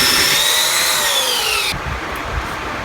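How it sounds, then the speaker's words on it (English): A belt sander whines loudly up close as it is dipped into a small radius groove in wood, its pitch sagging under load before the motor cuts off abruptly. "I got a belt sander, and I take the belt sander and I just dip it right down into that little groove."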